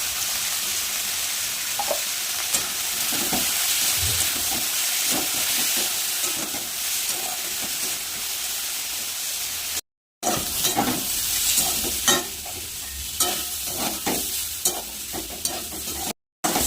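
Beetroot and flat beans sizzle in an oiled pan while a spatula stirs and scrapes them, a steady close frying hiss broken by two very brief silent gaps, with no speech.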